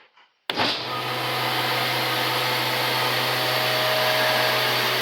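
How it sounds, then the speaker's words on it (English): A milking machine's vacuum pump switches on after brief quiet, then runs as a loud, steady motor whine and roar with a constant low hum, close and uninterrupted. "see if the vacuum pump's going to run."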